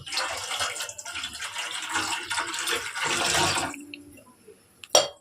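Water poured from a vessel into a pan of jaggery set to boil, a steady splashing gush for about four seconds, then a brief quiet and a sharp clink near the end.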